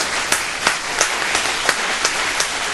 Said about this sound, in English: our guests, give her applause now